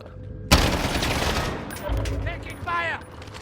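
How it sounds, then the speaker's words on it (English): A sudden loud burst of gunfire in Call of Duty Warzone, followed by continuing scattered shots and noisy battle ambience, with a brief voice near the end. "Taking fire!"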